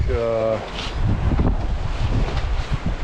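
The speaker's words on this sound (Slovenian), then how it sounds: "Tale vetrček nama zdaj pa prav prihaja." Breeze buffets the microphone aboard a sailing boat off Cyprus, a steady low rumbling gust throughout, with a brief tonal hum at the start.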